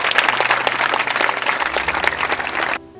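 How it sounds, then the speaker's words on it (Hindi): Lively audience applause for a student honored at a school event, dense close clapping from a crowd that holds strong and then cuts off sharply near the end, leaving a low hum. "तालियां एक बार जोर से।"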